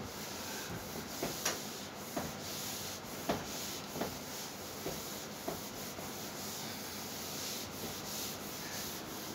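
Writing being rubbed off a board, heard as faint, steady scrubbing strokes with a few soft knocks, quiet and close with no talking.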